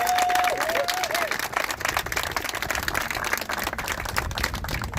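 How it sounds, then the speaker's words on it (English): An audience at a school event for the reveal of an all-electric school bus claps for the students, dense and steady applause filling the whole stretch, with a short whistle near the start. "Let's have a round of applause for all our students here"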